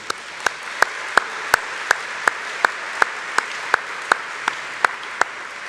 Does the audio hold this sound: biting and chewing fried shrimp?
no